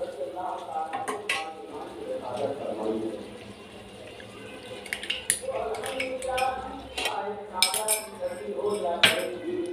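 Yogurt goes into a pan of spiced mutton liver masala, with spoon and pan clinks and light stirring and scraping that come and go under someone talking nearby.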